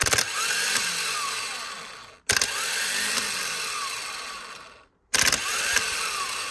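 A Toyota Land Cruiser 80 starter motor spins on a bench test in three separate bursts, each a loud, high whine that starts sharply and cuts out abruptly, with brief silences between.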